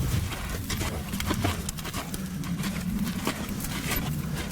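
A horse shifting and moving about while being rubbed with a training flag, with hooves thudding and clopping in an uneven rhythm close by, over a busy background of shuffling and rustling.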